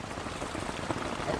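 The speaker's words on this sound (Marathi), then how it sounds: "तर फुल इकडे पाऊस बघा कसला जोरात पडतय." Heavy rain pours onto a tent in the jungle, a dense, steady patter and hiss close by, with no voices over it.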